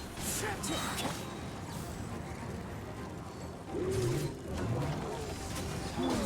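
Pigeons or doves cooing softly in the Fontaine region of Genshin Impact, a few low rounded coos near the end over ambient game sounds and low background voices.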